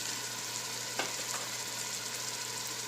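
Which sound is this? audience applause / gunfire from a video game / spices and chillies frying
spices and chillies frying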